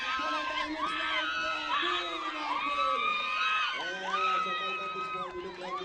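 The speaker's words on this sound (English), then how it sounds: "Loud shouts already." A sports race crowd erupting in loud, sustained shouts, whoops and cheering from many voices at once, dense and continuous with rising and falling pitches throughout, with voices calling out over the roar.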